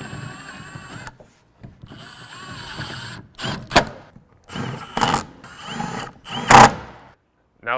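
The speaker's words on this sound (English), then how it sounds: "I can now take the screws to attach the inverter to the inverter wall mount." Screws are fastened to attach an inverter to its wall-mount bracket, giving intermittent whirring and ratcheting bursts from a tool with mechanical clicks and brief silences between, close and fairly loud.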